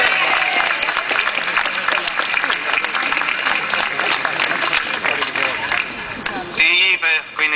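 A crowd at a Right to Life demonstration outside Leinster House in Dublin applauds. The clapping is dense, continuous and loud, with cheering mixed in, and a voice starts speaking near the end.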